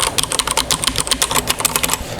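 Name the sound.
pressing Akko mechanical keyboard keys hard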